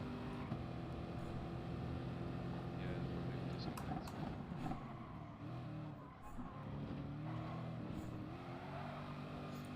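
Corvette race car engine in GT Sport at the Nürburgring, a steady loud drone with shifting pitch throughout, voices talking over it.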